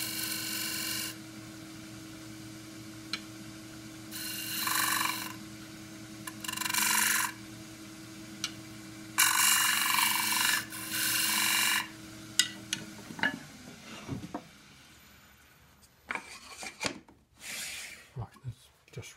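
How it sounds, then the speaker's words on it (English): Skew chisel cutting forest sheoak on a wood lathe for a flat box, sounding as several separate bursts of close, hissing scraping with a steady motor hum beneath and a few clicks and knocks toward the end. "I can use the side, the bevel side on the skew, just dropping the handle slightly, rolling it in."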